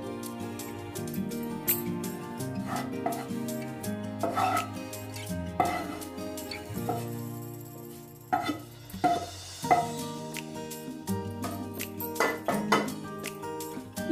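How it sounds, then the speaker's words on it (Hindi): Besan laddu mixture clinks and scrapes as it is spooned out of a nonstick kadhai onto a plate, with repeated metallic taps and stirring scrapes over a steady background hum, no talk. "इसको मैं उस पैन से मतलब कढ़ाई से, जो नॉनस्टिक की कढ़ाई है, उससे निकाल के मैं प्लेट में रख लूंगी"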